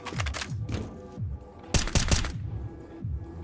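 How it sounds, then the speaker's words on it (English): A flashbang grenade detonates in a video game, a sharp broadband burst loud in the middle of a noisy stretch of gunfire-like bangs and thuds, with no talking over it. "Deploying flashbang. Flash it off."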